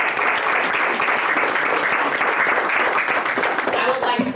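Audience at an Akron Board of Education meeting giving a round of applause, dense and steady clapping from many hands throughout, fairly close and loud.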